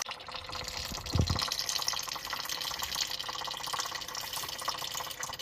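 Transmission oil draining from a 2020 Nissan Titan with a 9-speed gearbox, a quiet, steady trickle of liquid with a soft splash near the start.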